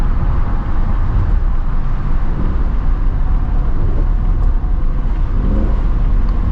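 A 2025 Ford Mustang GT S650 with a 10-speed automatic roars steadily while accelerating on the road, its loud, continuous engine rumble staying dense and unbroken throughout.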